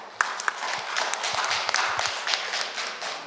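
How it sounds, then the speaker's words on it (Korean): A small audience at a conference discussion claps to welcome a speaker, a brief, fairly sparse round of individual hand claps heard up close. "큰 박수로 맞아주십시오."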